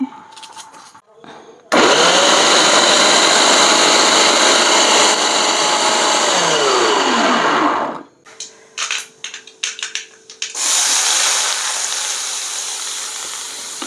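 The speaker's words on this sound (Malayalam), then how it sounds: "വെജിറ്റബിൾ കട്ടറും കൂടെ ഉണ്ട്, അത് വെച്ചിട്ടാണ് ഇങ്ങനെയുള്ള കാര്യങ്ങളൊക്കെ അരിയുന്നത്." An electric vegetable cutter whirs loudly and steadily while chopping vegetables in a home kitchen, with a brief pitch drop as the motor slows, then short stuttering pulses and another sustained burst of grinding.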